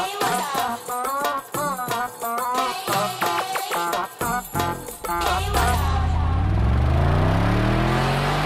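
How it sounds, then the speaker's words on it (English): Luxury cars racing along smooth roads through Dubai's sand dunes; after several seconds of music, an engine's tone climbs steadily and loudly as it accelerates, holding strong to the end. "Luxurious cars racing along sand dunes on perfect roads is a symbol of Dubai now."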